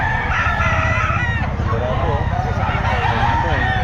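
A rooster kept as a fighting gamecock crows among other fowl, its calls rising over a busy, crowded outdoor scene with people talking loudly nearby throughout.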